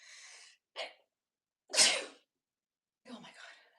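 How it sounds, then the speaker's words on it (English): An indoor sneeze bursts out sharply in the middle, preceded by a brief breathy sniff and followed by a short burst of talk or exclamation. "I just sneeze."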